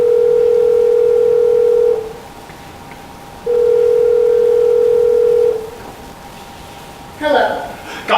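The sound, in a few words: telephone being dialed, dial tone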